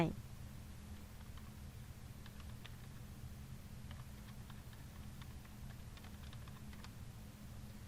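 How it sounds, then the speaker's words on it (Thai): Keys on a computer keyboard are typed in quick, light clicks, quiet and close over a low background hum, arriving in short irregular runs. "ทีนี้ให้เราพิมพ์ข้อความของเราลงไปนะคะ พิมพ์ข้อความของเราลงไป"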